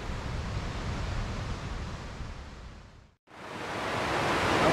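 Drift Creek Falls, a waterfall reached by a suspension bridge, roars as a steady, dense rush of broadband noise, cut briefly by a near-silent gap before the full roar returns, louder and brighter.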